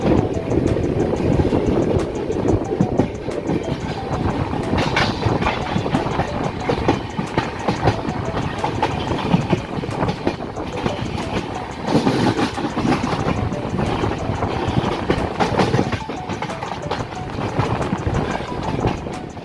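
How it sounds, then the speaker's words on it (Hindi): A train on Indian Railways rushes past at a crossing, loud and close, with a continuous roar of wheels and steady clickety-clack rhythm lasting throughout, no talking over it. "उससे पहले हमें एक ट्रेन क्रॉस होती है। आप पहले इस क्रॉसिंग को एंजॉय कीजिए।"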